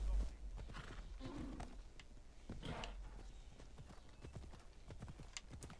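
Horse hooves clip-clop steadily in Assassin's Creed Odyssey, with a brief neigh partway through, the sound fairly close and carrying on through the whole stretch.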